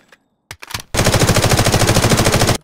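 An M4 rifle in a close-quarters build fires in the video game Delta Force Hawk Ops, a loud, rapid fully automatic burst of evenly spaced shots lasting nearly two seconds, preceded by a few short mechanical clicks.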